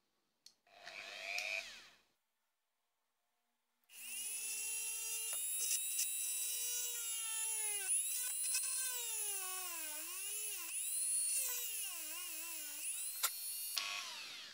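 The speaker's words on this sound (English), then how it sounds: "we just take our drill bit and we're just going to slowly drill into the hair" A small drill bit grinds slowly into the hair of an anime figure, a close, continuous whine whose pitch wavers and dips as the bit bites, after a brief rustle and silence.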